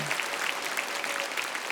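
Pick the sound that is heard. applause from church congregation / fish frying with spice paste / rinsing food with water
applause from church congregation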